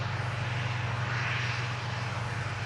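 A Loganair ATR turboprop airliner on its takeoff run, heard from a distance as a steady, droning engine roar with a low propeller throb, continuous and moderately faint.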